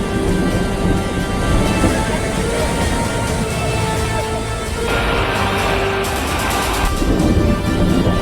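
Heavy monsoon rain pours steadily in Uttarakhand, a dense continuous roar with rumbling thunder underneath, loud and unbroken throughout.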